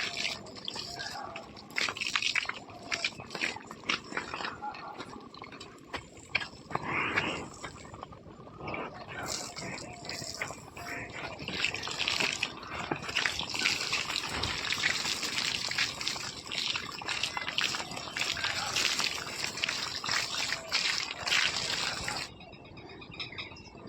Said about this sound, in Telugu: ఇక సున్నంలో నీళ్ళు పోస్తున్నా.